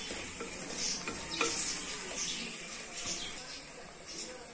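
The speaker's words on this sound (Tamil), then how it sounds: "நம்ம பொடி பண்ணி வெச்ச மிளகும் சீரகமும் அதல சேர்த்துக்கறோம் சேர்த்து நல்லா கலந்து விட்டுக்கலாம் இந்த எண்ணெயிலே" Crushed black pepper and cumin being stirred into hot oil for crab rasam, a steady close sizzle and frying hiss with soft scraping of the spoon throughout, fairly quiet and continuous.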